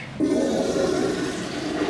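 A steady rushing gush of urine from a van's pee tank being emptied into a toilet begins abruptly and continues loudly, like a flush or a tank being emptied.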